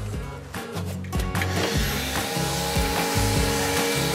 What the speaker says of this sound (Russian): Потом берем, включаем пылесос.